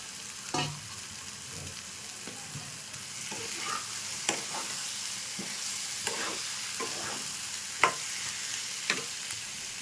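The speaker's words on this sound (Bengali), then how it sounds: "মশলাটা পাঁচ মিনিট খানে কষিয়ে নিয়েছি এবার ভাজা আলুটা দিয়ে দিচ্ছি" Fried potatoes tumble into a sautéed spice paste for a Bengali chara pona fish curry, giving a steady close sizzle with scattered sharp stirring scrapes and clicks of a spoon against the pan throughout.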